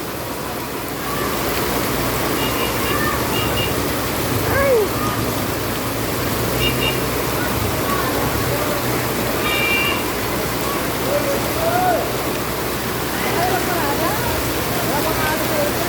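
Steady rain pours in a dense, unbroken hiss that fills the whole stretch, with voices calling out now and then over it.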